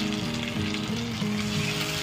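Ground spice paste with cumin hitting hot oil for a bata fish tel jhal, producing a continuous, close, vigorous sizzle with a faint tonal hum underneath and no talking.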